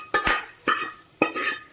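A spoon scrapes and clinks against a pot as fried tempering is stirred into bisi bele bath, three sharp metallic strokes spaced about half a second apart, close and clear.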